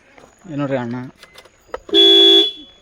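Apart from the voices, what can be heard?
vehicle horn honking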